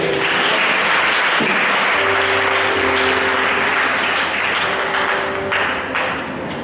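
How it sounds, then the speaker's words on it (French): A church congregation applauding during a Sunday service, loud dense clapping from a crowd filling the room throughout, with a low tone held underneath. "Est-ce qu'on peut acclamer le Seigneur?"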